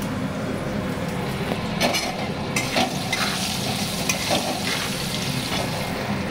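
Cardamom and cinnamon frying in oil in a pan, a dense steady sizzle and hiss with a few utensil clicks, close and fairly loud, without speech.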